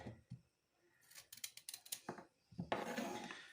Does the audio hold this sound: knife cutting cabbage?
yes